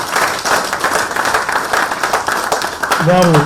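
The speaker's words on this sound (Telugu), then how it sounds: "వారికి please give a big round of applause" Loud, dense applause from an audience at an annual day celebration stage function, sustained clapping that fills the whole stretch with a voice starting to speak near the end.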